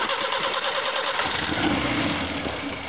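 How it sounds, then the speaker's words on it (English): Subaru 1800 engine idling rough on only three cylinders, a steady, continuous mid-pitched running drone heard close up with no talking. "Running on three."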